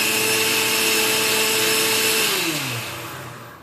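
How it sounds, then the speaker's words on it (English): Wet buckwheat pancake batter is whisked in a bowl, making a steady, loud, whirring rush with a sustained tone that drops in pitch and fades near the end, with no talk. "whisk this up one more time"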